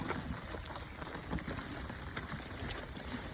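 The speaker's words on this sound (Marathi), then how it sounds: "पहिलाच पाऊस पडतोय, खूप पाऊस पडलेला आहे" Heavy rain pours down in the first rain of the season on the Konkan coast, a dense, steady wash of drops drumming on surfaces at close range, with no voices.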